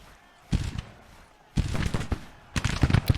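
Civil War infantry rifles fire in the strategy game Grand Tactician, with three bursts of crackling volleys that roll out at roughly one-second intervals, each swelling and fading, with no talking over them.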